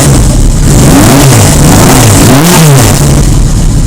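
A 1980 Yamaha XS1100 motorcycle with a 4-in-1 header revs loudly and continuously, its pitch sweeping up and falling back in repeated blips over a steady throaty idle, close and with no talk.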